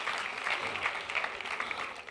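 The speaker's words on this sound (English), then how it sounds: "give them a round of applause as well" Faint live audience applause at a medium's first show in front of a crowd, a soft, steady patter of clapping from a small room for about two seconds.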